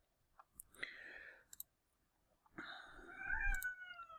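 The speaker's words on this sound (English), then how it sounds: "Yes, Kitty, I can hear you" A cat meows several times, short calls at first, then a longer, louder drawn-out meow, heard close up against a quiet background with a few soft clicks.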